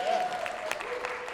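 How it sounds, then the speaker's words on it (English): Audience applause at a live podcast kickoff show, a short burst of dense clapping from a crowd with a voice speaking over it. "Let's give that a round of applause."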